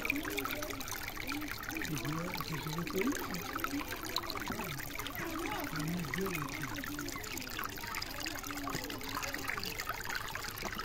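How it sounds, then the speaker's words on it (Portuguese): Water trickling at a farm, a steady close dribble and gurgle running without pause, with faint voices in the background. "Barulhinho da água."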